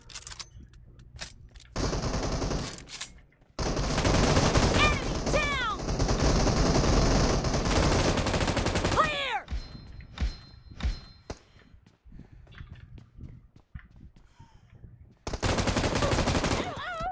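M249 machine gun fire in the video game PUBG, long loud rapid bursts separated by pauses, with scattered single shots and thuds in between, plus brief ricochet-like whines.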